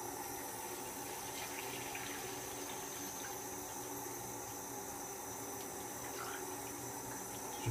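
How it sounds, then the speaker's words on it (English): Tap water runs steadily into a bathroom sink, a soft continuous splashing hiss, fairly faint and uninterrupted with no voices. "just run a little bit of water in the sink."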